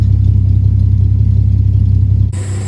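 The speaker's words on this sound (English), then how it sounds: "Admire the performance exhaust." Close, loud, steady rumble of a 1965 Dodge Dart convertible's Slant Six idling through a performance exhaust, then cutting off abruptly near the end.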